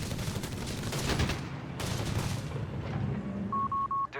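Machine gun fire in the World War II strategy game Company of Heroes 3, bursts of rapid gunfire and booms that cut off abruptly, followed by a few short electronic beeps.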